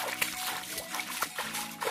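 Water is poured onto a tired water buffalo lying in mud on a rice farm, giving several short splashes and trickles close by, with faint background noise and no talk.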